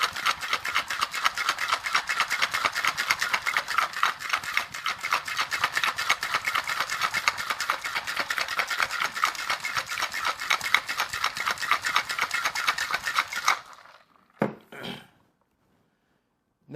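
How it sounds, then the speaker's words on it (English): A ginger martini shaken hard in a twist-on shaker cup full of ice, the ice rattling in a dense, fast, steady rhythm for about thirteen seconds before stopping, followed by a few brief knocks. "going to put this in a shaker cup with ice, which I already have ready. We're going to shake this quite a while."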